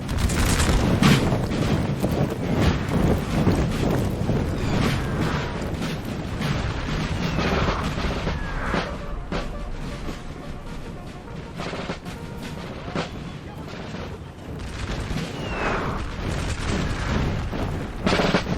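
Artillery and massed musket fire from a Napoleon Total War battle form a continuous low rumble of distant booms and crackling volleys, moderately loud and steady throughout, with scattered sharper reports.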